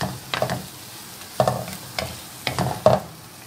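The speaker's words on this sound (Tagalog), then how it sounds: "Haluin natin ulit." Mussels sautéing in a pan with chili sauce and ketchup are stirred in four regular scraping passes, each a short clattering burst over a soft sizzle, close and moderately loud with no talking.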